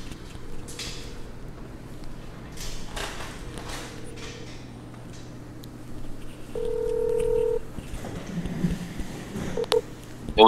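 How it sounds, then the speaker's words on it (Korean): Telephone keypad tones are heard while a phone call connects, with several short beeps and a longer steady tone in the middle. A faint voice and room noise sit underneath. "퀴즈를 맞추기 위해서 전화 통화 한번 연결해 보겠습니다"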